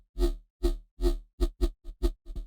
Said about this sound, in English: And here's how it sounds without any effects and any post-processing.